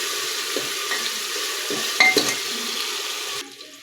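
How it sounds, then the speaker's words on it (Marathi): Tomatoes with salt being sautéed in a pan, a soft continuous sizzle with a few scraping stirs of a spoon against the pan, fading slightly near the end. "आता हे दोन ते तीन मिनिट टोमॅटो मऊ होईपर्यंत परतून घ्यायचं आहे"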